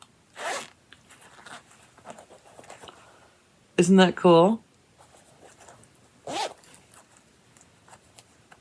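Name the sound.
double zipper on a project bag being opened and closed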